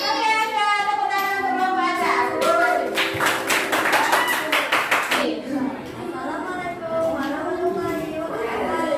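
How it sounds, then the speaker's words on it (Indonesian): A classroom of children claps for one group of classmates after a magnet-making experiment, a dense burst of hand claps lasting a few seconds, with children's voices talking before and after. "tepuk tangan untuk kelompok aja"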